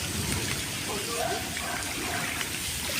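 Heavy Kalbaishakhi storm rain pours down in a dense, steady roar of drops on surfaces, with a voice talking over it.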